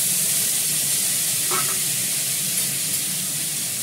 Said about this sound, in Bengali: এবার এর মধ্যে আমি তরকারিগুলো দিয়ে দেবো